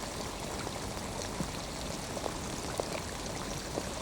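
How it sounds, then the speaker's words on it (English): Steady rain hisses down with scattered heavier drops pattering on nearby surfaces, a dense continuous wash at moderate volume. "it's raining hard now"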